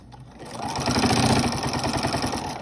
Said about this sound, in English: Finish your seam and do a little back stitch just to reinforce the elastic.